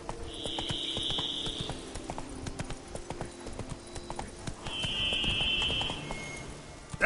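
Roach the horse's hooves clip-clop in quick, regular beats as she gallops in The Witcher 3, with two bursts of high whistling tone layered over the rhythm.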